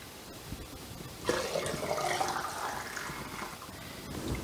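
Hot apple cider pours from a measuring cup into quart jars, a soft continuous gurgling splash that starts suddenly and tapers over a few seconds against a quiet background.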